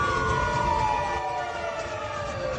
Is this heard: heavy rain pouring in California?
no